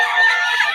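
A short, loud rooster crow, close and shrill, heard alone without any talking.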